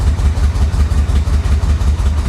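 An old Corvette engine, long abandoned in a Florida swamp, idles roughly with an uneven, pulsing low rumble, loud and close, with no talk over it.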